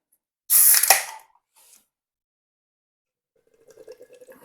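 A can of London Black nitro porter, made by Anspach & Hobday, is cracked open and poured into a glass: a sharp hiss and rush of liquid up front, a brief splash, then near silence before soft trickling at the end.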